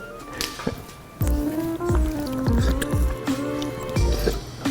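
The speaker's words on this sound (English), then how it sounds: "Today, I'm gonna try drinking from a dog bowl for the first time." A person lapping water from a dog bowl makes a string of wet slurps and splashes, irregular and close, with a faint voice at the start.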